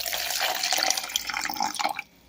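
Filtered water from a fridge dispenser pours into a container in a home kitchen, a loud, steady close stream that cuts off abruptly near the end, with no talking.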